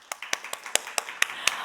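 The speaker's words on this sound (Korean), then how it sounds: "하나님께 영광의 박수 올려드립시다" Hand clapping during a Korean church service: eight or so sharp, evenly spaced claps in a quick steady rhythm, fairly faint, over a quiet room.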